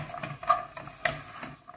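Peanuts are stirred through crystallizing sugar for praline, giving uneven scraping and clinking strokes of a spoon against the pan, several distinct knocks over a short stretch.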